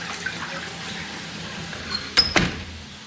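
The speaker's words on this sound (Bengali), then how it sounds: "ফ্রেশ পানি বেসিন থেকে ভরছি" Fresh water runs steadily from a basin tap into a container, a soft continuous rush with a couple of brief knocks near the end.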